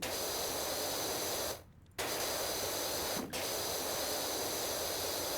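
A pressure washer sprays continuously in Powerwash Simulator while cleaning a playground, a loud steady hiss that cuts out briefly twice before resuming.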